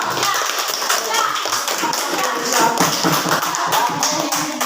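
Students in an Indonesian primary classroom clap for a classmate, a dense, steady patter of many small hands close by, with children's voices mixed in throughout.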